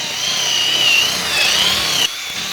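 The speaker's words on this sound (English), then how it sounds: "Once you start drilling through the steel belt, little flakes will come off that" A power drill bores through a steel belt while a playground is being assembled, giving a steady, loud high-pitched whine with shifting pitch for about two seconds before it cuts off abruptly.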